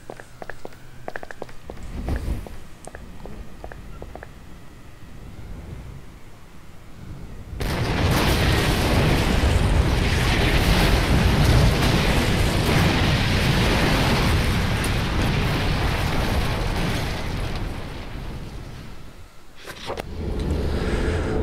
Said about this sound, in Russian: На комбинате прогремел оглушительный взрыв.